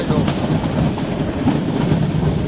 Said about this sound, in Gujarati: આ ટ્રેન ચાલુ થઈ જોઈ લ્યો તમે